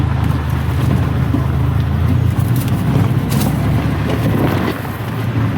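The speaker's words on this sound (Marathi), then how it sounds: "आणि आता अमोल चालवतोय गाडी" A car drives along a rough, bumpy forest track, its steady engine rumble and rattling body noise filling the whole stretch without pause, loud and close from inside the vehicle.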